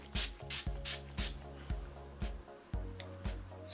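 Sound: hair texture spray being sprayed

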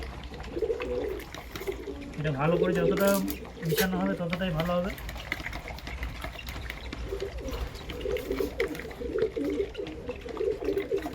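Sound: pigeons cooing

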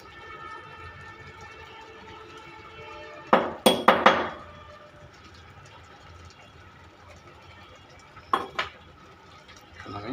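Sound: stirring spices into mango pickle in a pan

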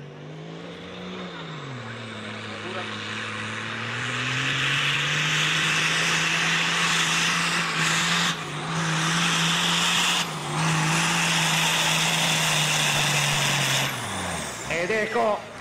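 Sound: Same Drago tractor with Iveco 8360 engine pulling at full throttle

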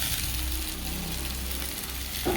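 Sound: frying ginger garlic paste with onion, potato, tomato

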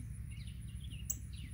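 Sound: mama bird calling near a fallen baby bird

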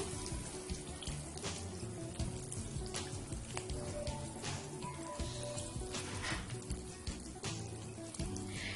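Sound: frying hilsa koftas wrapped in bottle gourd leaves

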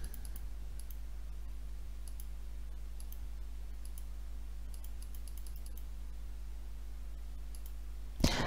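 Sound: computer mouse clicking

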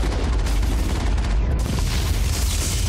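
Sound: gunfire while killing enemies in the video game Mass Effect

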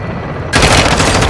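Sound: helicopter gunfire in video game Call of Duty Modern Warfare 2

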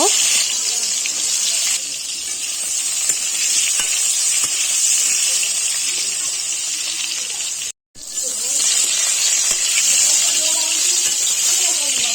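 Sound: pointed gourd (potol) frying in hot mustard oil

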